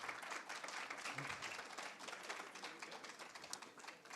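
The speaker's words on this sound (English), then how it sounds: "Give them a round of applause." Applause from the audience at a debating competition final, a faint, even wash of many hands clapping that holds steady for about four seconds.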